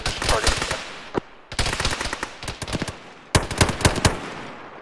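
Gunfire in the Arma 3 video game: rapid bursts of automatic rifle fire crackle loudly in three long volleys with brief pauses between them, and faint voices can be heard underneath.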